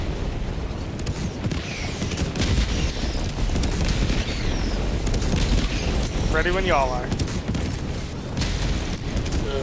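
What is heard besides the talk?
airstrike shell explosions in video game Helldivers 2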